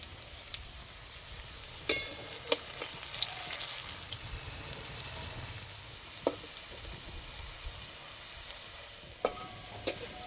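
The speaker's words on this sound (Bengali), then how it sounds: "এই পকোড়াগুলো তেলে দেওয়ার পর সঙ্গে সঙ্গে উল্টাবো না, একটু ভাজা হবে তারপরে উল্টিয়ে দেব।" Potato pakoras deep-frying in oil over low heat, with a soft continuous bubbling sizzle and a few sharp clicks and pops, fairly quiet and close.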